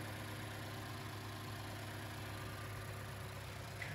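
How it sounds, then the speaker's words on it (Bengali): A Toyota Crown Royal Saloon Hybrid with an inline engine idles steadily, a quiet, even low hum with a faint mechanical drone that holds unchanged throughout. "বর্তমান গাড়িটা তেলে আছে, অর্থাৎ ইঞ্জিনটা ফাংশন করছে"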